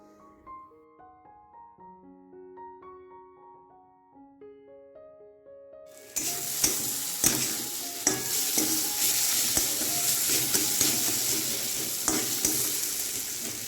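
Cauliflower and potato pieces go into hot oil in a wok after a tempering of bay leaf, dried red chilli and whole cumin, bursting into a loud, steady sizzle with stirring clatter, preceded by a soft melodic music passage.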